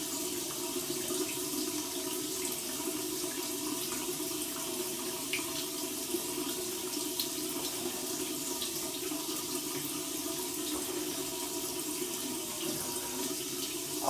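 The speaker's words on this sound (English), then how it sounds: "I'm running it under some cold water, and we'll see what kind of feedback we get" Cold tap water runs steadily over an alum block at a bathroom sink after a shave, a soft, even, continuous rush at moderate distance with no pauses.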